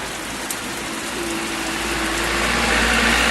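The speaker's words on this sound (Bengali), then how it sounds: "ও সুপার বৃষ্টি হইতেছে" Heavy rain falls after a spell of hot weather, blown by strong wind: a steady, dense broadband hiss of downpour that swells slightly louder toward the end, with no voices.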